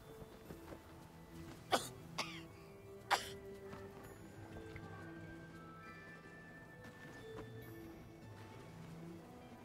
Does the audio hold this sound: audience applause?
no